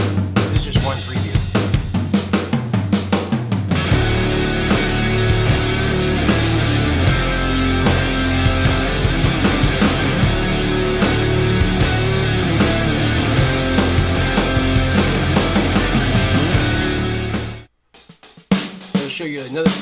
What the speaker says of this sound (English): That was all GarageBand with using the amp sims and electric guitars